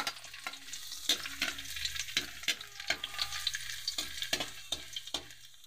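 Garlic sautéing in a pan with papaya on the way crackles in a quiet, steady sizzle punctuated by frequent close clinks and scrapes of a spatula stirring against the metal.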